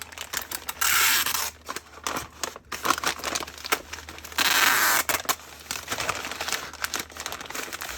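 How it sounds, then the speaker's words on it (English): Scotch tape pulled off a roll and torn for wrapping a thick brisket, loud close crinkling and ripping in long bursts with shorter rustles and crackles between them. "we'll take some Scotch tape"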